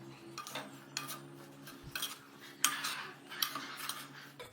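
Spoon scraping and clinking against a kadai while sprouted moong curry is mixed with sabzi masala, a series of soft, close stirring scrapes in uneven bursts over a low steady hum, with no talk.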